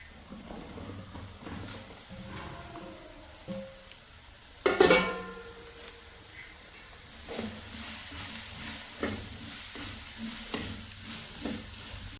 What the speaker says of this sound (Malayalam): നമ്മളെ ഉള്ളിയും കറിവേപ്പിലെല്ലാം ഇതിലേക്ക് ചേർത്ത് കൊടുക്കാം